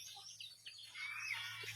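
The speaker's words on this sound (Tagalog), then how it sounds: "Sa palayan yan guys, tumutunog yung ibon." Small birds calling in a rice field, a few faint high chirps and a short trilling whistle over a low steady hum, distant and brief.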